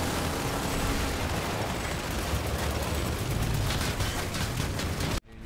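Rapid, heavy anti-vehicle gunfire in the video game Planetside 2, a continuous loud barrage of thudding shots and blasts that cuts off abruptly near the end.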